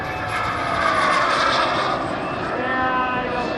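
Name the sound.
jet aircraft flying at an airshow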